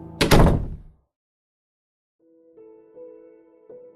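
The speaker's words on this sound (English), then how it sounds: "I didn't slow down until I was safely inside, locking the door." A front door shuts with one sharp, loud slam near the start, then a short silence, then faint sustained tones with a few soft clicks.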